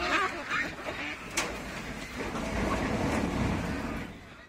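Ducks quack while being weighed on an electronic poultry scale, short harsh calls rising over a busy, noisy background of engine-like rumble and faint voices.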